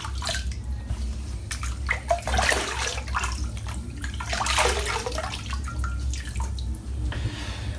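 Water splashes in cupped hands at a running sink while the face is wetted before a wet shave, with irregular close splashes and drips over a steady low running-water rush.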